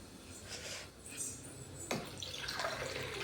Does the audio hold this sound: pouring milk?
yes